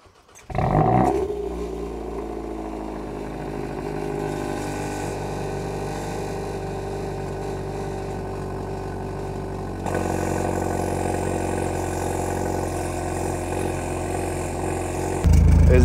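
A car engine idles with a steady, deep exhaust drone through an exhaust fitted with a Torcon valve spring, rising in loudness partway through, with a low rumbling tone and no talking.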